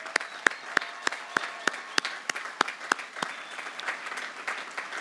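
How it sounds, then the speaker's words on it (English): Commencement audience at a Bates College graduation applauding the graduates' parents and families; a few sharp, distinct claps ring out first, then the clapping thickens into a steady, moderately loud ovation. "A big round of applause for them."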